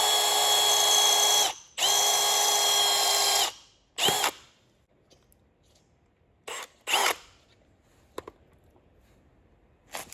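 A power drill with a very tiny bit whirs in two long sustained bursts, followed by several short quick trigger pulls and a few faint clicks in a quiet room, drilling a hole for a Jeep Wrangler JL camera mount.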